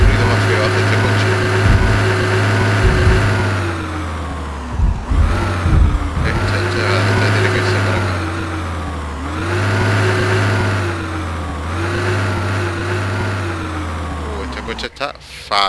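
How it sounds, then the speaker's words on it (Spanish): A faulty car engine in the video game Project Zomboid revs and rises in rough, repeated surges, with a loud low drone underneath. The engine is close, and a voice talks over parts of it. "¡Qué ruido más feo hace este coche!"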